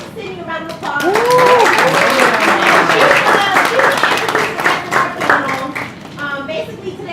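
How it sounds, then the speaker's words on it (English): An audience at a New York fashion panel gives a round of applause, dense clapping that swells quickly and holds steady before thinning out, with voices and cheers mixed in. "So give Sidnee a round of applause."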